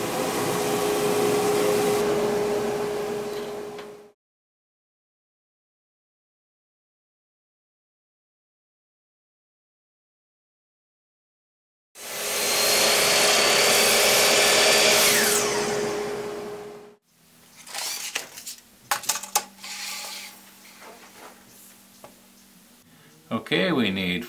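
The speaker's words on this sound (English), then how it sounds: "to pass these all through the table saw and get them all the same width before I start gluing them together" Table saw ripping wooden boards to a uniform width, a loud steady whining cut that runs for a few seconds, falls silent, then runs again before clattering handling noises and brief clicks follow.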